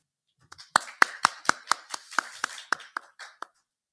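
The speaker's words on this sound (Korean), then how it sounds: "그럼 먼저 박수로 첫 번째 발표를 맞이해 주십시오." A small audience at a literary festival session claps sparsely, about a dozen distinct slow hand claps in an uneven rhythm, close and clear against silence.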